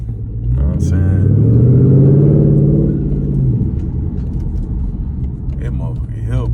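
A tuned Dodge Charger SRT8 rumbles loudly as it accelerates hard, its engine note rising through a gear, then settling into a lower rumble while people talk inside the car.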